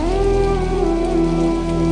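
Steady, dense rain pours down at night in Jizan, Saudi Arabia, without pause, a constant heavy wash of sound with a low rumbling undertone, with strong wind.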